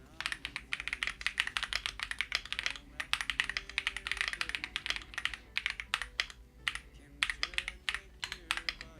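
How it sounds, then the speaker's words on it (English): Rapid clattering keystrokes on a Tide65 mechanical keyboard, typed in bursts with short pauses, close and fairly loud with no talk. "Let's say I need to type something."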